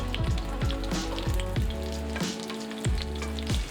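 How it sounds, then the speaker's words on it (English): Breaded chicken cutlets frying in olive oil in a large pan, a close, steady sizzle with crackling spatter and a few rhythmic scraping stirs. "fry in a little bit of olive oil in a large frying"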